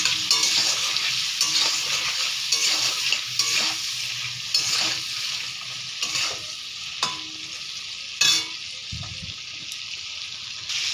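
Prawns fry in oil with salt and turmeric while being stirred, a close crackling sizzle broken by repeated scrapes and knocks of the spatula in the pan, with no talking.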